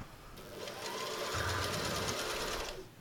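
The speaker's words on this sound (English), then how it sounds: "Sorry if the sewing machine's loud." A sewing machine runs steadily at close range, its rapid mechanical whir building up and then stopping near the end.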